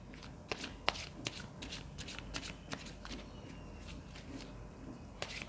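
Tarot cards being shuffled and drawn for a relationship reading, with a steady close papery riffle broken by sharp flicks and slaps as cards are pulled, and no voice.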